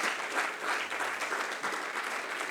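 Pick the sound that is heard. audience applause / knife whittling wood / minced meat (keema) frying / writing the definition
audience applause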